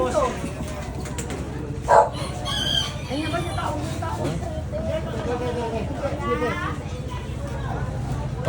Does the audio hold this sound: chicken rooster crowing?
yes